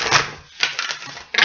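An Earth Power card deck, its cards sticking a little, is shuffled: brief, loud riffling bursts of papery clatter separated by short pauses, close up with no voices.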